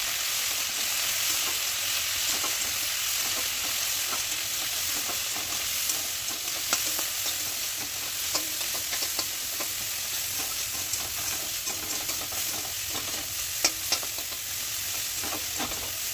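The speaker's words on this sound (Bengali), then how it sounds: "এইভাবেই কিছুক্ষণ ভেজে নেবো।" Dried shrimp and potatoes with dried chillies and salt sizzle steadily in a frying pan, with scattered light clicks and scrapes of stirring throughout, close and fairly even in loudness.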